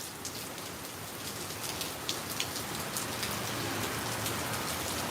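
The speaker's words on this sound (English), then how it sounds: "looks like the heavy rain has let up a lot. But there's still some heavy raindrops." Heavy raindrops patter steadily on a surface during a storm in Ottawa, a dense, fairly quiet wash of drops with occasional sharper splashes and no voices.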